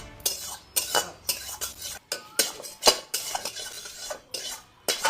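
Cooking pots and metal utensils clatter loudly in a kitchen, a rapid irregular series of sharp clanks and scrapes, close and dominant with no voices.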